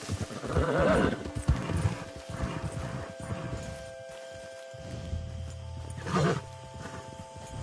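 Horse whinnies and hooves clop in the open-world western game Red Dead Redemption 2. A loud neigh comes early, with hoof beats running beneath it, then a steadier rhythm follows with a low hum in the second half.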